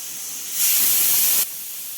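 A pressure cooker holding vegetables lets out a short, sharp high-pitched steam whistle lasting under a second, rising abruptly and cutting off cleanly over a quiet hissy background.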